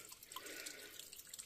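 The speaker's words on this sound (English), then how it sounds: "we just came to a stream crossing, and it's actually flowing" A flowing stream at a forest stream crossing in Montenegro, faint steady trickling and gurgling water heard from close by with no voices.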